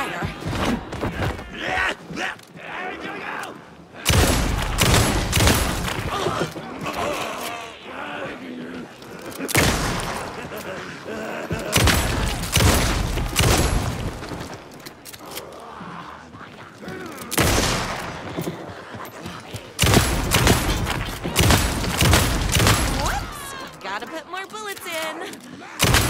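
Heavy gunfire in Alan Wake 2: Night Springs, with loud bursts of repeated shots and thuds coming in waves over a dense game soundscape, broken by brief quieter gaps.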